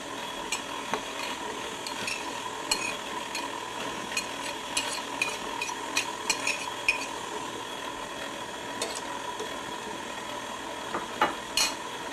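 Almonds are stirred into almond spritz cookie dough in a bowl, a soft steady mixing sound with intermittent utensil clinks and taps against the bowl.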